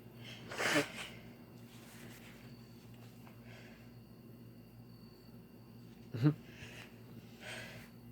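A woman lets out a loud, explosive sneeze near the start, then a second sharp sneeze later, with quieter breathy snorts in between and faint room hum throughout.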